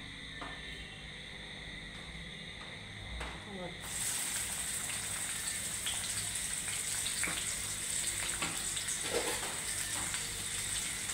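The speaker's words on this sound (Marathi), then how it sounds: "जरा तेल थोडंफार गरम करून त्याच्यामध्ये आपल्याला कांदा ॲड करायचा आहे, कढीपत्ता ॲड करायचा आहे" Onion and curry leaves dropping into hot oil, a bright hiss that jumps louder partway through and then holds as a dense, continuous crackle with a faint background hum, no speech.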